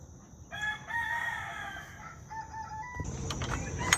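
Chickens in a backyard castle-style coop, heard from close by through a window, give a few soft clucks and drawn-out calls over a quiet morning background, ending in a brief burst of louder squawking.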